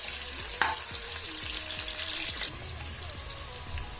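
Onions fry in hot oil for fenugreek rice, giving a steady close sizzle with scattered spatters and a few scraping stirs, no talk.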